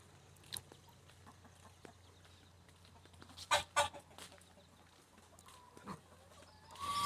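A rooster crows faintly in the distance, with scattered chicken clucks and a few close clicks and knocks over a quiet outdoor background.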